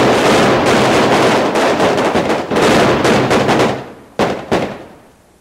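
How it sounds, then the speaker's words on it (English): A loud, dense volley of police gunfire in a reenacted New York shooting, with many rapid shots overlapping continuously before thinning to a couple of final isolated blasts. "The shooting of Amadou Diallo was a tragedy"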